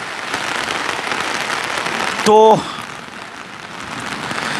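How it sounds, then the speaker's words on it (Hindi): Heavy rain pours steadily at a farmers' protest, a dense close hiss that holds throughout, broken briefly by a short spoken word midway. "अब बारिश तेज हो गई है"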